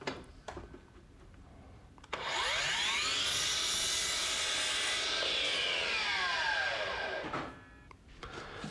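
A miter saw cuts wooden pieces to length for a workshop table, its motor spinning up to a loud, steady whine for about five seconds before winding down, with quieter workshop noise on either side.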